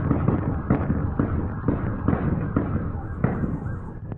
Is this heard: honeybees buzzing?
no